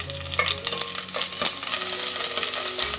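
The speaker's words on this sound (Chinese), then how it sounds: "然后砂锅热油，我们加入一块姜、蒜头、红葱头，还有一些香菜头，先给它炒香。" Ginger, garlic, shallots and coriander roots stir-frying in hot oil in a clay pot, a short burst of steady sizzling with spatula scrapes and clinks.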